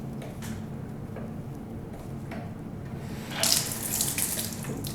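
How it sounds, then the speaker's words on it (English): Cold water runs from a tap into a sink in a darkroom during film processing, a steady close splashing stream that grows louder and brighter for the last second and a half. "So I'm gonna use just the cold water here."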